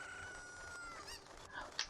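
Chickens cluck and squawk in the Ocarina of Time game, a few short bursts building toward a louder, sharper cry near the end over a steady background of game ambience.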